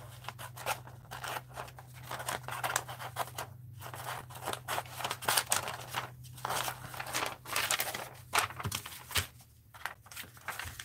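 Scissors snip and crunch through a sheet of acetate, a close, irregular series of cuts and crinkles over a faint steady hum, with no talking.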